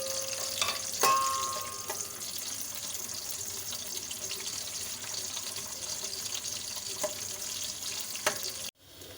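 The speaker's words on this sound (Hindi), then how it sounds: "और अब मैं ये प्याज डाल रही हूँ, जो छोटी सी मैंने प्याज काट के रखी थी" Small chopped onions dropped into hot oil for khichdi, giving a steady, close sizzle and crackle throughout with a few clinks of utensils, cutting off abruptly at the end.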